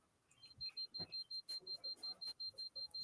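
An EMF meter beeps in a rapid, steady series of short, high electronic pulses, fairly close, with faint movement and handling noises around it.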